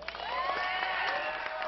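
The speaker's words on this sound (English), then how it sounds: "How about a big round of applause?" Crowd at a UFC fight night event with EA Sports applauding and cheering in a large arena, a dense, sustained wash of clapping with shouts and whoops over it, heard briefly.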